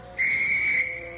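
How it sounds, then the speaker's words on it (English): A single sustained whistle blast for morning roll call at a snowy prison camp compound, shrill and steady for about half a second, heard alone. "When you hear this whistle, you'll come to attention."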